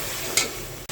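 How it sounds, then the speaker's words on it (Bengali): Spice masala with turmeric and salt fries in a pan while being stirred for a rohu fish head and ridge gourd curry, a brief sizzle with one bright scrape of the spoon. "এখন আমি ভালোভাবে নাড়তে থাকবো যাতে মশলাটা একদম কষে যায়"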